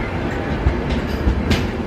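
A train rolls into Leeds station on the East Coast Main Line, a steady close rumble of wheels and carriages with a brighter hiss rising briefly near the end; no one talks.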